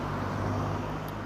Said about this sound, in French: excusez-moi si vous entendez des voitures parce que je suis à côté d'une route.